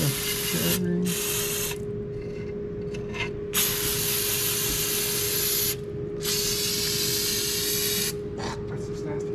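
A parts washer sprays engine parts from a GM engine teardown in several loud, hissing bursts separated by short pauses, over a steady pump hum.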